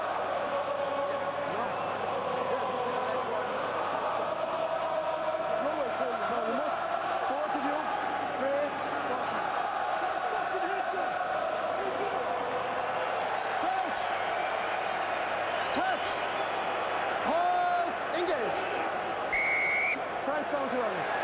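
French supporters' crowd noise filling the stadium at a Twickenham rugby match, a constant dense roar with occasional whistles, heard under commentary.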